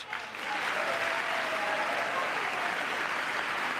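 An audience at a State of the Union address breaks into sustained applause, a dense and even wash of clapping from a large crowd that swells quickly and holds steady, heard somewhat distant.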